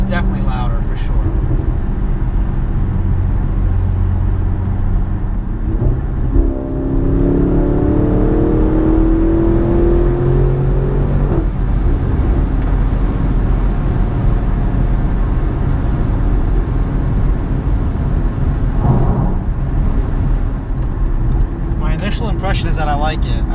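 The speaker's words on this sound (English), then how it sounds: "The burble out of the exhaust is definitely louder for sure." A 2016 Audi S6 engine with APR Stage 2 tuning rumbles and revs close by with a deep exhaust burble rising as it accelerates, steady and loud throughout.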